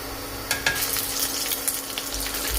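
Four dried red chillies fry with garlic in hot oil over a low to medium flame, giving a steady, close sizzle dotted with small pops and crackles throughout.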